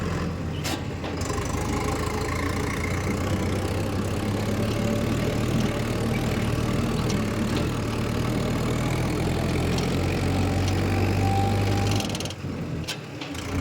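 A Mahindra Yuva Tech+ 585 tractor engine runs loud and close in second gear, giving a steady diesel throb with a mild rise in revs near the end.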